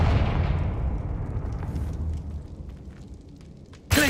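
A Confringo fire spell explodes in a video game with a heavy, rumbling blast that slowly decays over several seconds before a sudden loud burst near the end.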